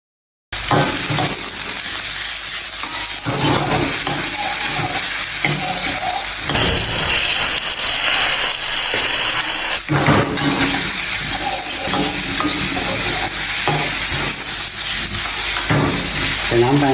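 Diced Australian beef stir-fries in a hot pan for a Thai holy basil dish, with a loud, continuous sizzle and hiss that runs steadily throughout, its texture shifting briefly partway through.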